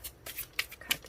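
Tarot cards being shuffled by hand, a quick run of soft papery riffles and flicks lasting about a second, close and clear with no talk over it.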